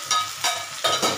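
Hot water poured into a pan of frying potato and pointed gourd curry, with three bursts of hissing sizzle rising and settling as the liquid hits the hot pan, close and fairly loud, no talking.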